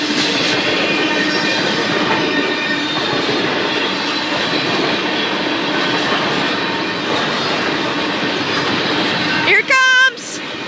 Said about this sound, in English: Oh yeah, here comes a locomotive, guys.